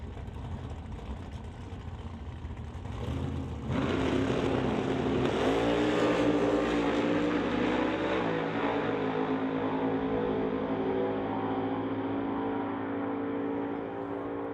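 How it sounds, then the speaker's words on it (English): Drag racing cars, a supercharged Acadian and a nitrous Nova, rumble at the start line of a door slammer qualifying event, then a loud engine roar rises and holds steady before slowly fading. "So Devin Jansen purchasing the nitrous on the Nova as the supercharged Acadian gets brought into the beams"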